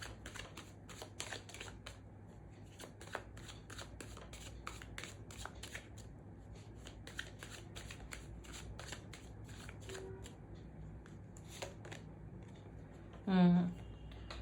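Tarot cards are shuffled and handled in a quiet room, giving soft repeated riffling flicks and light taps over a low steady hum, with one brief louder rustle near the end.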